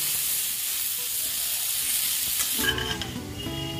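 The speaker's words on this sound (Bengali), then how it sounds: "খিচুড়ির জন্য কপি ভেজে নিচ্ছি।" Cauliflower frying in hot oil for khichuri gives a steady loud sizzle, then after a few seconds a clatter of utensil or pan sounds rings out over the hiss.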